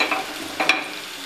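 Tomato puree goes into a frying onion mixture for chicken tikka masala, making a brief soft sizzle with a couple of quick stirring scrapes near the end.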